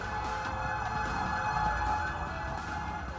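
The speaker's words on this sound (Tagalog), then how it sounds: "Sunod-sunod ang dating ng mga fire truck." Fire truck sirens sound continuously at a fourth-alarm house fire, a steady wailing tone over a dense rumble of engines and crowd noise, loud and sustained throughout.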